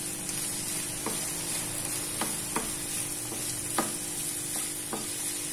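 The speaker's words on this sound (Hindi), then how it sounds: "इस पे मैं अब ये फ्राई कर रही हूँ" Shredded cabbage and capsicum frying in a pan over full heat, a soft steady sizzle with a few sharp clicks of a spoon stirring against the pan, close and quiet.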